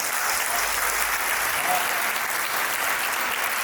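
A large audience at a Hindi poetry recital claps continuously, a dense and even wash of applause lasting the whole moment at steady volume.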